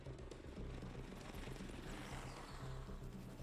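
A military Apache attack helicopter flying, its rotor chop a dense, steady low throbbing under a broad roar of turbine and wind noise. It is distant and fairly faint, with no voices.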